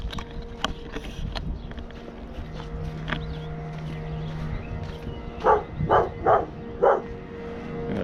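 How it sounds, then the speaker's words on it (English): A dog barks four times in quick succession outdoors near a carpenter's place, moderately loud over a background of rustling, faint footsteps and low ambient noise. "Dog there."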